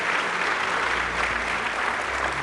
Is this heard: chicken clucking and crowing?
no